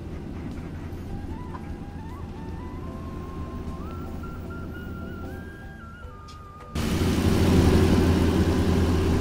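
Steady low engine drone inside an old intercity bus with sound insulation, on a long Tangerang–Medan route, with a faint whine slowly rising in pitch, then a sudden louder, rougher surge near the end; no talking.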